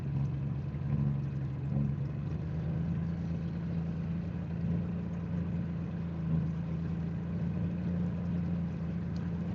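A boat's outboard motor runs steadily a little above idle, a constant mid-pitched drone close by with a slight rise in pitch partway through, alone with no voices.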